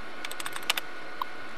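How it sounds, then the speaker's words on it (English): Keys clatter as a password goes into a computer terminal in the Fallout New Vegas video game: a quick burst of about eight light taps, then a lone tap after a pause, faint and clean with no talk. "I'm typing a password."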